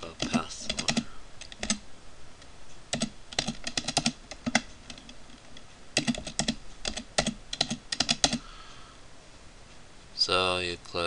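Bursts of close, crisp keystrokes on a computer keyboard while a password goes in during an Ubuntu 10.04 install in VirtualBox, in quick irregular clusters with pauses, a brief tonal sound near the end.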